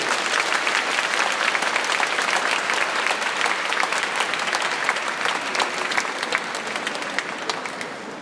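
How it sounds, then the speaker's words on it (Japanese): An audience gives sustained, loud applause as a professional basketball team's players gather on stage at a team anniversary event, a dense, even roar of many hands that eases slightly toward the end. "揃いました選手に皆様大きな拍手をお送りください。"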